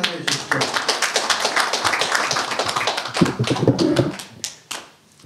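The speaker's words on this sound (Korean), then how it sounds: "박수 한번 해주십시오." Audience applause at a ceremony marking an association's 109th founding anniversary: dense, steady hand clapping from a crowd for several seconds, tapering off near the end.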